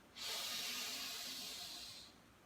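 During a guided breathing exercise, a person draws one long, deep inhale through the nose and mouth, a steady airy hiss lasting about two seconds, close and fairly soft, with no speech.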